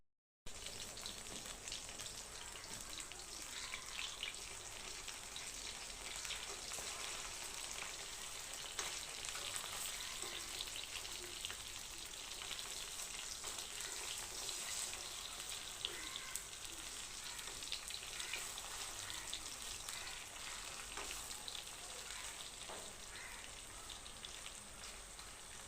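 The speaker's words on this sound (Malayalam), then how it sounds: "ചട്ടിയിൽ ചിക്കൻ ഇടട്ടെ" Chicken pieces fry in hot oil in a pan, a steady, even sizzle and crackle that runs unbroken and fairly faint, with no one talking.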